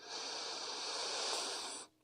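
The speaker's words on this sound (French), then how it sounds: "prenez une profonde inspiration" One long, deep inhalation through the nose during a yoga breathing exercise, close and airy, holding steady for nearly two seconds before stopping abruptly.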